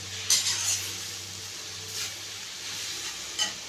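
Cabbage poriyal being stirred in a pan on the stove, a soft steady sizzle with a few brief scraping clinks of the spoon against the pan early on and near the end, close and fairly quiet.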